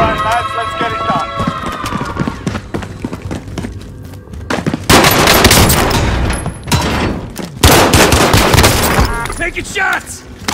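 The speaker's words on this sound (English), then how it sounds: "Taking shots!" Loud, close bursts of gunfire crack out in Warzone on Rebirth Island, dense volleys and thuds between brief lulls, with shouted voice lines mixed in.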